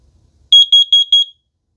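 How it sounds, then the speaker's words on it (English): Four quick, loud, high-pitched electronic beeps from a carbon monoxide detector's test button sound in steady succession, with silence before and after. "Let's press the test button. You'll get 4 quick beeps followed by a flashing red light."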